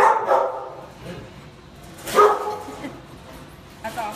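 Dogs at a kennel bark in a few sharp, loud bursts spaced a couple of seconds apart, with quieter sounds between them.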